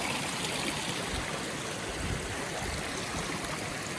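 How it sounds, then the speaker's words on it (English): A small mountain creek flows steadily over rocks at a hiking trail crossing in the Three Sisters Wilderness near the Green Lakes, a continuous close rushing and gurgling of water with no voices. "Another little creek crossing."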